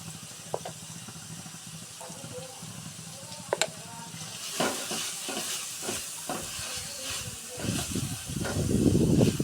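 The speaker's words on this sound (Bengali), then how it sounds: "মশলাটা প্রায় ভাজা হয়ে গেল" Spices for a pabda fish curry sizzle in a pan, with intermittent scraping and stirring strokes that grow louder and busier toward the end; a faint voice comes through now and then.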